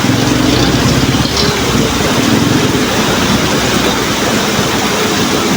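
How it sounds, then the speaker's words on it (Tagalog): Heavy rain pours down hard in a town during a windy storm, a loud steady roar of water that fills the scene without pause. "Talagang malalakas ang ulan."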